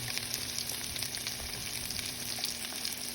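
A burger patty fries in a pan, giving a steady, close sizzle with continuous crackle and no talking.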